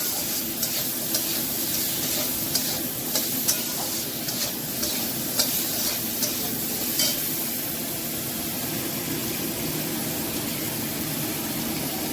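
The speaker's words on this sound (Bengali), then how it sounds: "এবার একটু তেলে ভাজবো, ভেজে জল দিয়ে দেবো।" Salted rohu fish frying in oil in a pan, giving a steady, dense sizzle that holds through the whole stretch, with occasional light scrapes and clicks of stirring on top and no voices.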